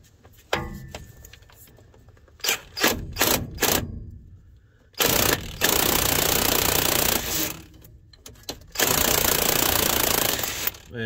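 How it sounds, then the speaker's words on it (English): Metal-on-metal clanks and grinding rasps as a screwdriver drives a bushing's inner piece tight during car work, in short bursts and longer sustained stretches, close and fairly loud. "Now I'll take my screwdriver and drive that little inner piece that way to tighten up on it."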